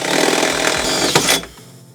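A power drill bores a pilot hole into the wall of a Mercedes Sprinter van for a console table bracket, whining loudly and close for about a second and a half before cutting off.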